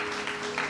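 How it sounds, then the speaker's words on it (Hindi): A church congregation claps together during a sermon, a steady, moderately loud patter of many hands sustained without pause. "जोरदार तालियां उस खानदान के लिए।"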